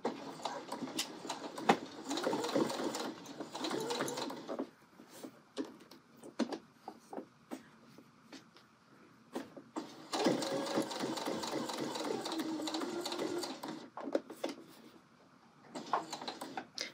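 Domestic sewing machine stitching a fabric pocket for the Know Me ME2058 pattern: bursts of fast, steady motor-driven stitching with brief pauses and clicks between runs, close and fairly quiet.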